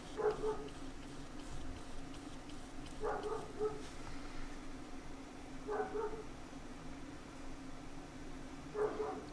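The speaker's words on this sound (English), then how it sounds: "Something's going on in the neighborhood. The dog wants us to know." A dog barks out in the neighborhood, short bursts of two or three barks repeating about every three seconds, distant and fairly faint over a steady background hiss.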